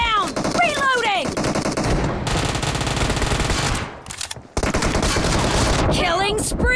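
Rapid automatic gunfire in PUBG Mobile's team deathmatch mode, with loud close bursts of machine-gun fire and a short lull, mixed with game sound effects.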